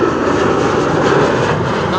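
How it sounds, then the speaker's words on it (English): A KLM Embraer 190 jet arriving from Leeds passes by at Amsterdam Schiphol Airport, giving a loud, steady engine roar with broad rushing noise that holds evenly for a couple of seconds. "KLM Embraer 190 arriving from Leeds is passing by, which is what you are picking up on the mic."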